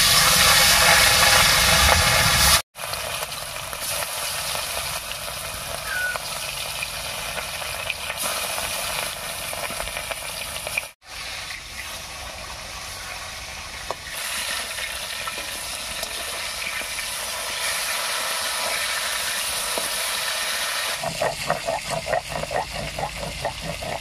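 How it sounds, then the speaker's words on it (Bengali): Pieces of rui fish fry in hot oil with a steady, close crackling sizzle that runs without a break, dropping out briefly twice, with no talking. "এই তেলের মধ্যে বাকি মাছগুলো ভেজে নিচ্ছি।"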